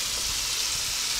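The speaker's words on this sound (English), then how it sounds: "The chicken frying up." Chicken frying in hot oil, a dense steady sizzle and crackle heard up close on its own.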